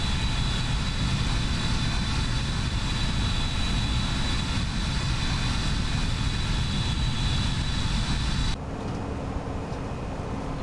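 Airliner jet engines of a Toliss A319 with the BSS sound pack roar steadily and loudly, a broad constant rumble and whine, then drop abruptly to a quieter, thinner hum near the end; no talking.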